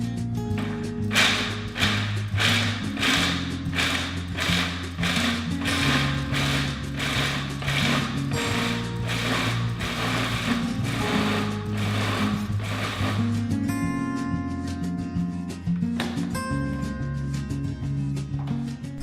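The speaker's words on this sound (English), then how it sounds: "Start by putting some raw walnuts into the food processor and pulsing them until they are finely" A food processor pulses raw walnuts, its motor whirring in rapid, regular mechanical bursts that grind on steadily and then loosen in the final seconds.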